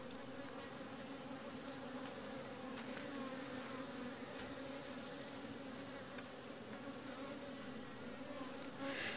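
A swarm of about 12,000 to 15,000 honey bees hums in a continuous, dense drone, steady and fairly faint, with no voices.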